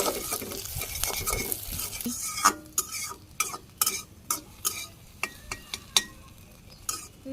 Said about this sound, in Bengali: ওই ডিমগুলো যেভাবে মামলেট ভাজি করে ওইভাবে আমি ভাজি করে